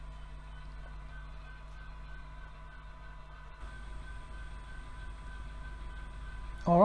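A model train climbs a grade on a layout near Fairview, its motor and wheels producing a faint, steady low hum with a slight rattle that continues throughout before a brief louder squeal at the very end.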